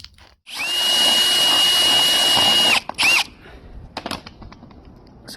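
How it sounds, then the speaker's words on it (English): A power drill bores a hole on a 2008 Mercedes GL450 during a power steering pump replacement, one steady loud whine of about two seconds, then a short burst, followed by faint clicks and handling noises. "So now we drill the hole"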